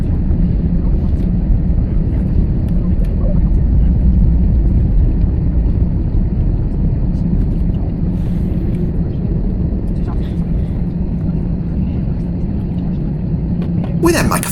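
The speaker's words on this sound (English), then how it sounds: "Another EasyJet passes us heading out." An EasyJet airliner rumbles past on the taxiway at Stansted airport, a steady low jet engine drone heard from inside a taxiing aircraft while someone talks over it.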